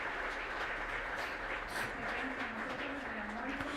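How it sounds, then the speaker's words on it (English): Audience applause at a conference session, a steady wash of clapping at moderate level filling the whole stretch, with a faint voice briefly audible underneath. "I keep those two concepts of the applause for Deborah and Francisco."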